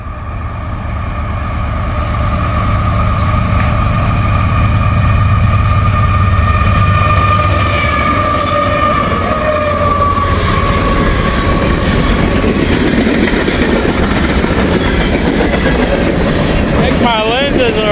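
Norfolk Southern and CSX freight train hauling coal rolls past up close, a loud continuous rumble with rail screech and clattering wheels that holds steady for the whole stretch, no talk over it.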